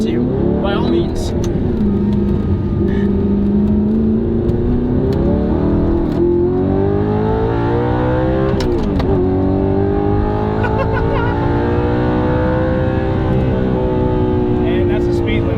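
An Audi R8 engine revving hard toward redline during a spirited drive, loud and close, with rising and falling pitch sweeps as it climbs through the gears and a brief drop in revs around a shift.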